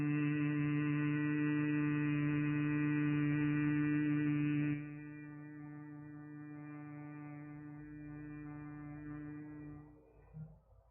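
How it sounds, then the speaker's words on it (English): A single voice hums gently on one sustained low pitch during meditative breathing, steady and clear for several seconds, then softens and continues more quietly before fading out on the exhale. "making the humming sound gently for a longer period."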